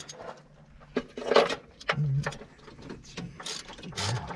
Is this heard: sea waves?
no